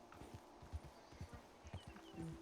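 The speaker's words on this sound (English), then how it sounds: "Myself and my horse." Horse hooves plod at a walking pace in the RedM western game, a soft, regular clip-clop of about a dozen steps, fairly faint and steady.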